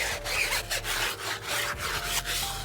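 Stiff, thick nylon hard-bristle tire brush scrubbing a wet, soapy car tire during a wash, with repeated rough rasping strokes in an uneven rhythm, close up and moderately loud, with no voices.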